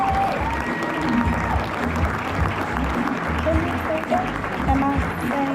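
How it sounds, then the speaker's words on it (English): A ballroom audience at the Windsor Shad Derby coronation ball applauds as candidates re-enter: dense, sustained clapping from a large crowd, steady and lively, with voices and light cheering mixed in. "Can we have a round of applause as our candidates re-enter?"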